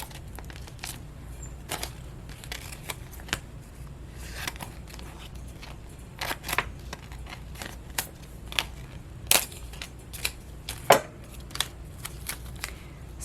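Scissors cut through craft paper in a quiet room, producing a series of soft, irregular snips and crinkles that grow a little louder toward the end, with no talking.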